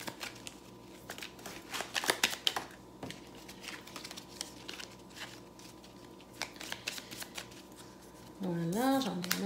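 Tarot cards being shuffled and handled, a soft, quiet papery riffling and tapping spread through the clip, with a voice speaking briefly near the end.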